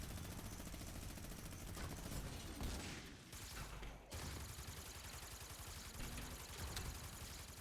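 Dense, sustained video-game gunfire in a Ventures mode: rapid automatic bursts fire almost without pause, loud and close, with a brief dip in the middle before the shooting resumes.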